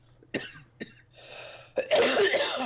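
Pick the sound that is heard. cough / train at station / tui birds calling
cough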